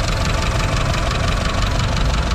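A 2013 Tata Sumo Gold sits with its engine idling close by, a steady loud diesel rumble with a faint knocking beat and no voices over it.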